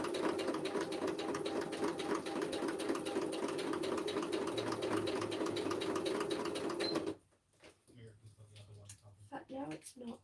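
Sewing machine stitching a journal pocket, a fast, steady mechanical whir for about seven seconds that then stops, followed by quieter handling noises and faint talk.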